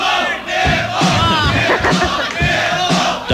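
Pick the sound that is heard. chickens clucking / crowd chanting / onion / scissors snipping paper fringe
crowd chanting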